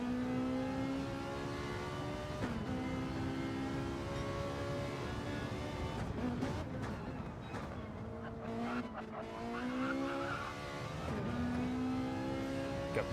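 A GT3 race car laps the Mount Panorama circuit in a racing video game, its engine droning steadily and rising and falling through gear changes, with brief tire scrubs, continuous and moderately loud throughout.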